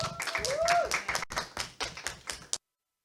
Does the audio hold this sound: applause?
yes